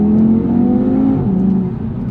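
A 2019 Audi TT RS five-cylinder engine pulls hard under acceleration, a loud, continuous, throaty drone that rises in pitch and then eases off slightly near the end.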